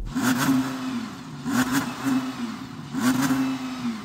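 An Audi R8 supercar engine on a snowy straight, blipped three times in quick, evenly spaced revs that rise sharply and fall back to idle, moderately loud and close.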